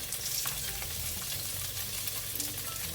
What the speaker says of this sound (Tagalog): Igigisa na natin.